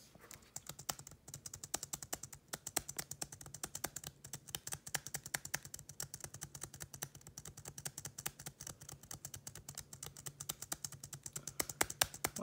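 A computer keyboard space bar is clicked rapidly and continuously, making a dense stream of light, close tapping clicks with no talking.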